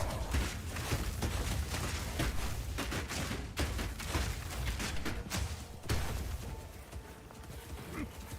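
Enemies firing at the player in Path of Exile 2, a rapid barrage of gunshot-like impacts and thumps layered over busy game noise, with a voice speaking faintly underneath.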